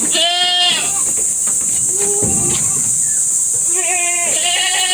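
Goats on a hillside farm bleat loudly and close by, with several wavering cries at the start and end over a steady hiss of background noise.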